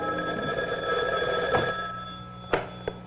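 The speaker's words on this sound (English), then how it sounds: "That help frequently begins with a ringing telephone in this room in San Francisco's Mission District." An old telephone bell rings in a small night ministry office in San Francisco's Mission District, a sustained metallic trill that fades, followed by two sharp clicks as the receiver is lifted.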